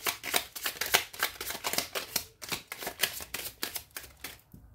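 Tarot cards are shuffled and drawn close up, a quick run of crisp riffling bursts and flicks in an irregular rhythm, ending with a brief quiet gap and a last soft snap.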